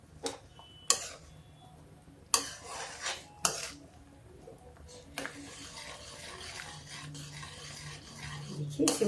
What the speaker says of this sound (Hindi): अब इसको सबको मिक्स करते हैं